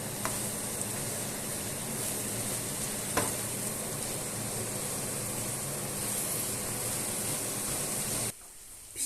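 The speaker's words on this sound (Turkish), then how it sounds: "Ölen soğanlarımızın içine kereviz saplarımızı koyuyoruz. Bunlar da iyice yumuşana kadar kavuruyoruz." Celery stalks and softened onions sautéing in a pan: a steady, close sizzle and hiss of frying that runs unbroken, with a couple of faint clicks of stirring, then cuts off abruptly near the end.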